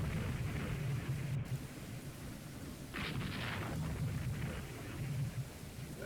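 Distant booming naval gunfire from warships in the Rule the Waves 2 game, low rumbling blasts over a steady hiss with one brighter crack midway, no talking.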